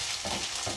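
Garlic sautéing in a hot pan as it is stirred, giving a steady, close sizzling hiss with faint scraping throughout a brief stretch and no voices.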